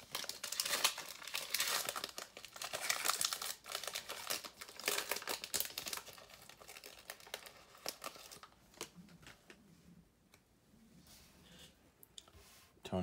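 A Panini Prizm basketball card pack wrapper is torn open and handled, giving close, dense crinkling and crackling of plastic foil that thins out toward the end, with a few soft clicks.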